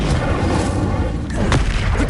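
An Incendio fire spell cast in Hogwarts Legacy, heard as a heavy booming burst with rumbling crackle and a few sharp impacts, set against a noisy combat background.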